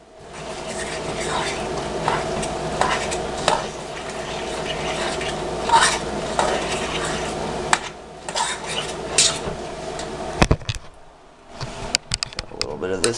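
A spoon stirs and scrapes oatmeal stuffing in a metal pan on the stove, making repeated clinks and scrapes over a steady background hum, with a person talking at times.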